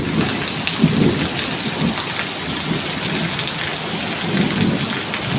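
Heavy rain pours steadily onto surfaces while low thunder rumbles roll underneath, a dense, continuous storm wash with no voices.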